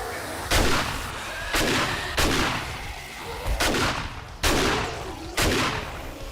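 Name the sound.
gunfire against zombies in the video game 7 Days to Die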